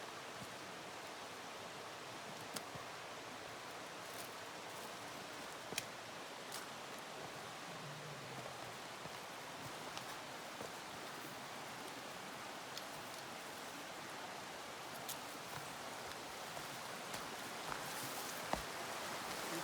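A creek flows steadily in the background, a faint, even rush of water with occasional small splashes and clicks, heard alone without voices.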